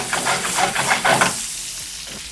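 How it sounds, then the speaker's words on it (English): Lobster pieces sizzle loudly in a hot pan and are tossed with a few rhythmic scraping stirs, the frying hiss easing off toward the end. "We're going to go ahead and start adding some of this lobster here. Nice little sizzle."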